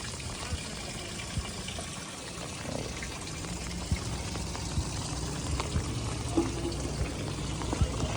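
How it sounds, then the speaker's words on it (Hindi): Water steadily gushes and pours into the structure of a bridge under construction at Rathoa Haryam, Mirpur, Azad Kashmir, making a continuous broadband rush with occasional splashy knocks throughout. "देखो पानी किस तरह इंटर हो रहा"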